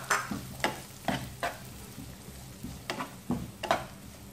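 Chopped onion fries in melted butter in a pan, giving a close, steady sizzle. A spoon scrapes and knocks against the pan several times while stirring.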